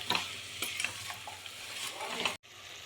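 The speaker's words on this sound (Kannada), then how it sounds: "ತರಕಾರಿನೆಲ್ಲ ಹಾಕ್ಕೊಂಡು ಚೆನ್ನಾಗಿ ಫ್ರೈ ಮಾಡ್ಕೊಬೇಕು" Vegetables fry in oil with masala, a close, steady sizzle broken by scraping stirs before cutting off abruptly near the end, then a quieter hiss.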